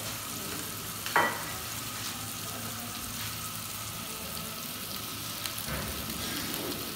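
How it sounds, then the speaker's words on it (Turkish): Meat lightly sautéed in a pan for saç tava: a steady, close sizzle and frying hiss with occasional stirring scrapes, continuous throughout. "bir süre etimizi hafif soteledikten sonra"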